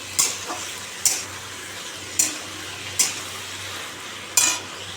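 Ridge gourd and potatoes cook in a wok with a soft, steady sizzle. Five sharp scraping stirs of a utensil against the pan punctuate it at roughly one-second intervals, close by.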